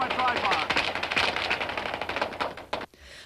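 Rapid automatic weapon fire from ATF agents, bursts of machine gun shots rattling in quick succession, loud and dense, mixed with chaotic background noise and some voices.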